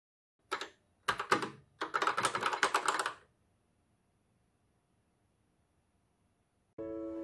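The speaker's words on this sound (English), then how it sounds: "The keys do feel like they're binding up against each other a little bit." Typing on a Kaypro 4 Plus 88 computer keyboard, with slightly binding keys: close, crisp clusters of keystrokes in quick bursts, then silence and a short steady electronic tone at the end.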